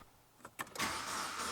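A car with a timing chain fault that stalled on the highway is cranked: a couple of quick clicks give way to a steady whirring churn that keeps going without the engine catching.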